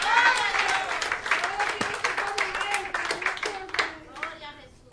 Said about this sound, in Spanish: Alguien déle ese aplauso al Señor.